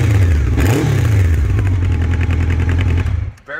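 A 1984 Honda Nighthawk S motorcycle engine runs close by with a throaty idle and a brief rev near the start, steady exhaust rumble, then cuts off abruptly near the end.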